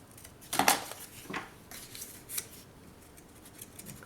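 Scrapbooking paper being bevel-cut with a blade, heard as a few quiet, close scraping and snipping strokes with small clicks and pauses between them.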